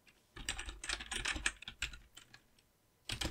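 Computer keyboard keys typed in quick bursts while a new animation name is entered, close and clear, with a short pause near the end before a final flurry.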